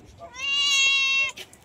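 A house cat gives one clear, drawn-out meow lasting about a second, close by, against a quiet indoor background.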